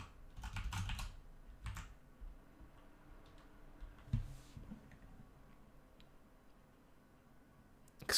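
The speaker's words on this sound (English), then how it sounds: "I apologize for the weird typing" Computer keyboard keys tapped in a few quick bursts of typing during a C++ programming lecture, faint clicks with quiet stretches between, then a louder clatter at the end.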